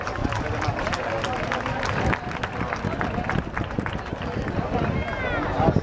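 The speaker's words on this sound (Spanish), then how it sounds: "Un aplauso para ella." A crowd applauds at the Virgen del Carmen fair in La Línea de la Concepción, a dense, steady patter of many hands clapping, fairly close, with murmuring voices underneath.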